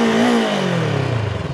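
A Voge 500 DS adventure motorcycle engine revs briefly, its deep rumbling tone sliding downward as the revs drop into a throbbing, pulsing idle, loud and close with no talk.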